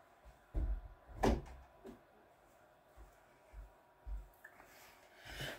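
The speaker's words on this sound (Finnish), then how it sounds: "kun tätä ovea ei ikinä voi laittaa kiinni" An interior door is pushed shut several times with dull low thumps spaced a second or so apart, the latch evidently failing to catch, with faint room noise between the knocks.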